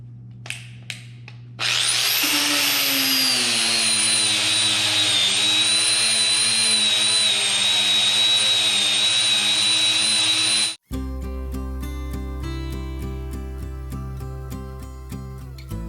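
A Scotch-Brite pad scrubs paint off a clamped piece of metal with a loud, steady abrasive whir that runs unbroken for about nine seconds and then stops abruptly. A few faint knocks come before it, and a different mechanical tone follows.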